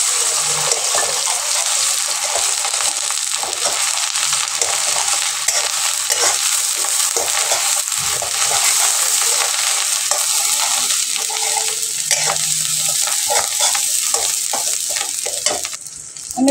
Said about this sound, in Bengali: তেল দিয়ে আমি কড়াইতে মিশিয়ে নিচ্ছি। এবার চিংড়ি মাছ বাটাটা দিয়ে দিচ্ছি এর ভিতরে।